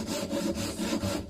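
A hand saw cuts through wood in steady back-and-forth strokes, a close, rhythmic rasping that repeats several times without pause.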